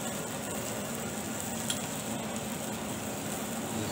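Tomato puree sauce flavored with thyme cooks in a pan for baked Portuguese-style fish, a soft, continuous low sizzle and bubbling with a faint clink of utensil near the middle.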